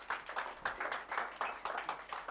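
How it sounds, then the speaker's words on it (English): Scattered clapping in quick bursts, a small group applauding with uneven rhythm, moderately close. "Another round of applause."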